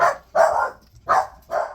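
A dog barks four times in quick succession, sharp and fairly close, with short pauses between barks and no other sound.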